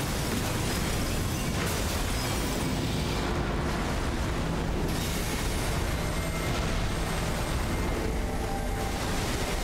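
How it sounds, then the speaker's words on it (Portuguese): Booming explosions in the Elden Beast boss fight of the video game Elden Ring, a dense, loud, continuous roar of blasts filling the whole stretch with no pause. "Nossa, que explosão, velho."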